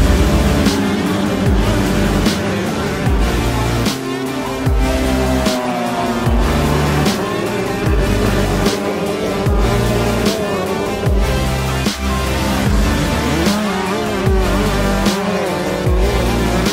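Youth 125cc and 250cc motocross bikes racing on a beach track, loud continuous engine revving and whining as the bikes pass close, with no talking.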